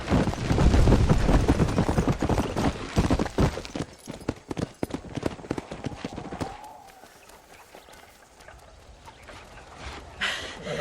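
Horse hooves clip-clop in the Red Dead Redemption video game: a fast, loud galloping rhythm that slows into scattered, fainter hoofbeats and then fades, leaving quieter ambience.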